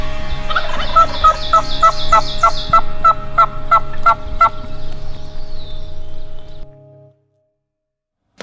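A wild turkey gobbler during a spring turkey hunt gives a loud, near, rattling gobble of quick repeated pulses that trails off, followed by silence.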